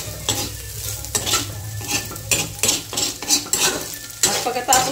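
Egg being stir-fried in a pan: a steady close sizzle broken by repeated scraping and knocking of a utensil against the pan in an irregular rhythm, fairly loud, without speech.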